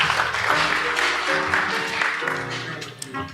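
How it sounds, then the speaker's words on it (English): Applause from a symposium audience at the end of a session, fairly loud and continuous, with some tonal sound mixed underneath as it gradually tapers off. "Give a big round of applause"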